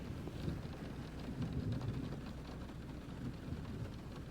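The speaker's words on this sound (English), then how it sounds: "Well, it's starting to rain." Steady rain falls outdoors, a dense continuous patter with low rumbling undertones, constant and fairly close throughout, with no voices.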